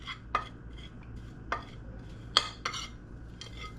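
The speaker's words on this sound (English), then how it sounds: "I'm gonna go ahead, mix all these spices up together" Spices are stirred together in a bowl for a Caribbean oxtail stew, heard as a few sparse, sharp clinks of a utensil against the bowl over a quiet room hum.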